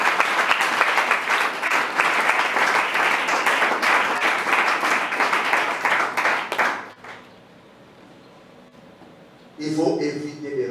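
A church congregation at a Sunday service bursts into loud, sustained applause and cheering for about seven seconds, dense and close, before it drops away and a voice resumes.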